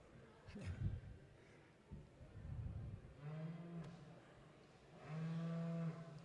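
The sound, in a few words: dairy cattle being moved into show ring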